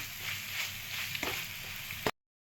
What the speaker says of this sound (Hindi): सबको मिक्स करेंगे, अच्छी तरह से भूनेंगे स्लो फ्लेम पर